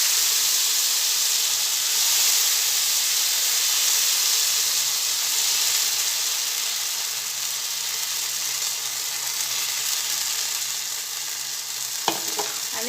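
Dosa batter made with rice flour roasts on a hot griddle, giving a loud, steady, close sizzling hiss that holds for the whole stretch, broken near the end by a couple of brief sharp clicks.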